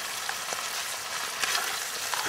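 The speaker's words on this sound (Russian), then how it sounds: "Жареные сморчковые шапочки во фритюре а-ля гранж." Morel mushroom caps deep-frying in hot oil give a steady, dense crackling sizzle that runs unbroken throughout, with no voices.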